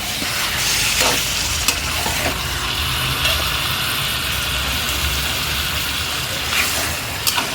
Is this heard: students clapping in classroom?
no